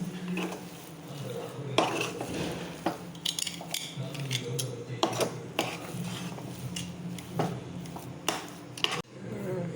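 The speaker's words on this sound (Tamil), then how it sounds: "அதோட 2 ஏலக்காய் எல்லாத்தையும் சேர்த்து கலந்து விட்டுருவோம்." A spoon scraping and clanking against a metal pan while stirring kesari with cardamom, irregular knocks and scrapes, close and clear with no talking.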